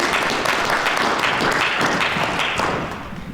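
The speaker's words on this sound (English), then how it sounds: "So a round of applause." Sustained audience applause at a panel session, dense and fairly loud with many overlapping claps, thinning slightly near the end, with no voices over it.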